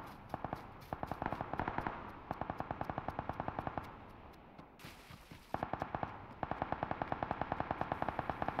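Gunfire in PUBG Lite: rapid bursts of automatic shots in rhythmic volleys, sharp and fairly close, with a short pause midway.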